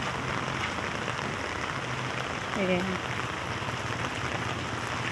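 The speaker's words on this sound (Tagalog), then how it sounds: "Lakas ng ulan guys." Heavy rain falls on an umbrella held while walking, a dense constant hiss and patter close overhead, with a voice speaking briefly in the middle.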